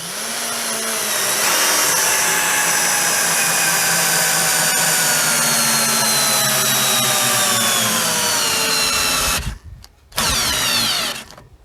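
A budget cordless drill-driver on first speed drives a 6x100 lag screw, its motor whining steadily and strained for about nine seconds, briefly cutting out before running again.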